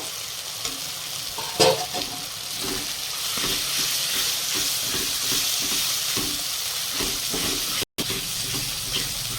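Ground prawn paste and a few whole prawns go into spiced masala sizzling in oil, giving a steady close frying hiss with soft stirring scrapes and one brief louder clatter, with no voices.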